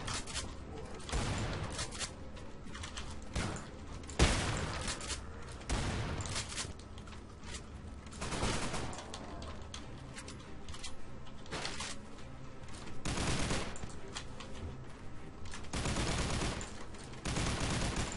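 Machine gun fire in the horror shooter The Haunted: Hell's Reach comes as repeated loud, rapid bursts of automatic shots, clustered into dense volleys across the whole stretch with brief gaps between them.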